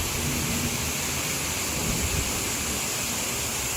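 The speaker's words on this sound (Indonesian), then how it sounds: "Itu ada air terjun guys." Waterfall on the Mount Takao hiking trail in Japan, a loud, unbroken rushing roar of falling water filling the scene without a pause.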